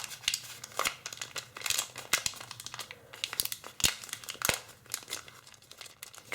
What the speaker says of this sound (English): we're first going to inside reverse fold right along these edges right here